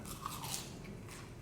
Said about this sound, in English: they're crunchy as well and soft in the middle